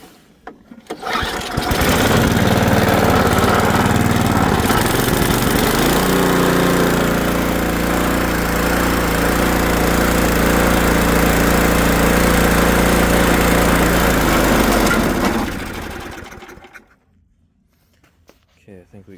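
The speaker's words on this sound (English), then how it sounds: "Let's try again and we'll go to a higher RPM" A small Ariens ST524 snowblower engine starts up, revs to a loud sustained roar at higher RPM for about fifteen seconds, then winds down and cuts off.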